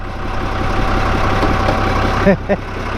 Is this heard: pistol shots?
no